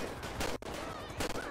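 Gunfire aimed at a car's tyres in GTA 5 during a police chase, with a few sharp shots and bursts over a dense, noisy game mix.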